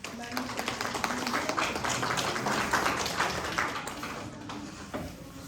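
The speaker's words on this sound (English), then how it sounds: "So let's give her a round of applause" Lecture audience giving a round of applause for a speaker, continuous mid-level clapping with some voices mixed in.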